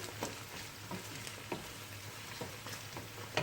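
Steady, quiet sizzling of minced meat and onions frying in a pan, with occasional soft stirring scrapes and crackles.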